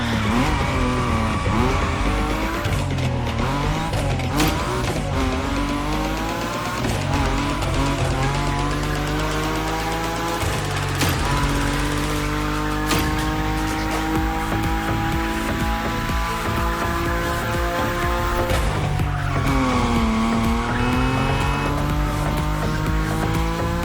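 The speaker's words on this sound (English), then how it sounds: "Your Nismo is powerful enough to slide along on its own when you're at high speed, so don't be afraid to keep your foot on the gas" A Nissan Nismo in a racing video game roars at high speed and slides, its engine droning steadily while tires squeal in long, shifting tones throughout, with no voices.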